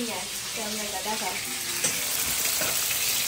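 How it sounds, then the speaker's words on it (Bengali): Pieces of catla fish fry in oil in a home kitchen, giving a loud, dense sizzle and spatter that fills the whole stretch, with a short burst of voice near the start and a sharp knock partway through. "এই যে এখন মাছগুলো ভাজা করছি,"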